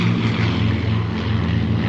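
An aircraft at the 2009 Royal International Air Tattoo airshow at Fairford drones steadily, a loud, continuous low engine hum with a propeller-like throb and no break.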